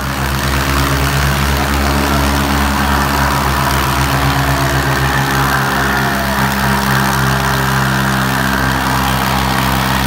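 A tractor engine runs steadily at a farm event with tractors, a low, continuous rumble with strong low harmonics that holds at a constant level throughout, with no voices over it.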